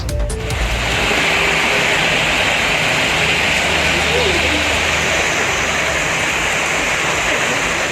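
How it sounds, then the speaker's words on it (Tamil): Floodwaters of the Mayyazhipuzha river in Mahe rushing loudly and continuously, a broad roaring wash of water that stays steady throughout, with a brief knock at the very start. "மாஹேவில் உள்ள மையாழிப்புழா ஆற்றில் வெள்ளப்பெருக்கு ஏற்பட்டது"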